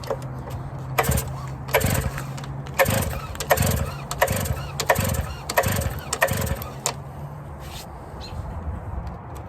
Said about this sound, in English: So now let's go ahead and try to start it.